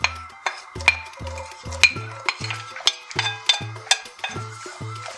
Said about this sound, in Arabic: بنطر حتى تدوب السمنة وبنزل عليهم بالبصلات